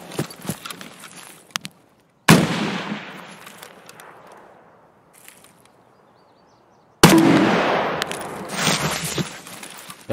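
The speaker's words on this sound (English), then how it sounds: "Oh shit, I'm getting shot at." Video game gunfire in bursts: a quick crackle of shots, then a sharp loud volley, a fading stretch, and another dense burst of rapid shots.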